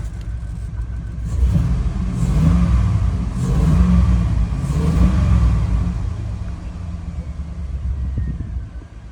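An LS engine fitted in a single cab truck runs and idles nearby: a steady, deep rumble that swells gently a few times without sharp revs.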